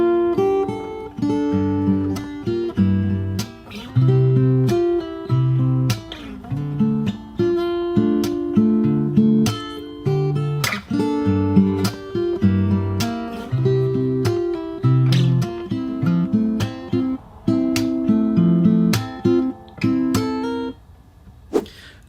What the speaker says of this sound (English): So let's just play through that first section first.